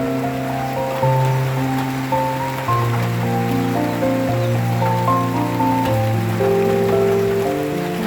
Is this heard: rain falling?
yes